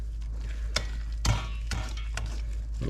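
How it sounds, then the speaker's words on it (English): Zucchini bread batter of cinnamon, lemon zest and walnuts being stirred as wet ingredients are mixed into dry ones, soft repeated scraping and wet thumps of a utensil in a bowl, close and steady with no talking. "we're just going to mix it until the liquid goes into the powder"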